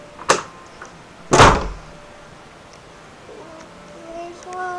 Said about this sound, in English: and then I'll shut my door.